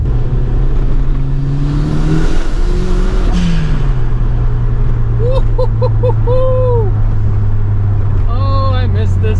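A tuner car running on old gas is driven, its engine droning loudly and rising in revs, with cabin noise throughout and a person talking over it, plus brief chirping tones near the end.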